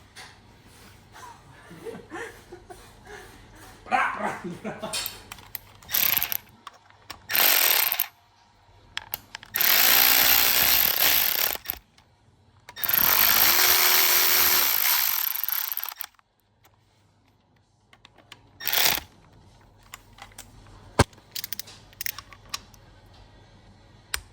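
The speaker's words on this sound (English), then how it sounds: "And now smash them in the rattle gun." An impact wrench hammering bolts on a Honda CBR1000RR motorcycle engine during assembly, several loud rattling bursts of a few seconds each between quiet pauses, with small metallic clinks of parts and tools.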